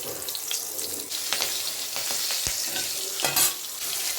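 Green chillies tossed into a pan of frying pumpkin for a Bengali hilsa and pumpkin curry, giving a steady, close hiss of hot oil with stirring scrapes and clinks.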